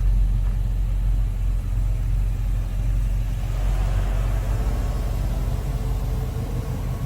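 A 1937 slant-back car's engine idles with a steady, deep rumble, close and continuous, with no voices, at a toy drive car event.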